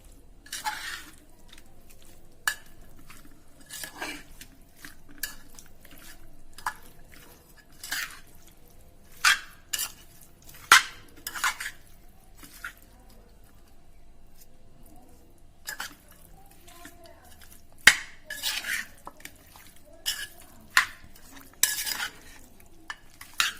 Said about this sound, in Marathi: आणि आलं लसूण पेस्ट हे सर्व आता एकत्र करूया